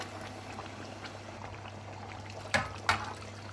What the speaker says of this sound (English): Bring it to a boil,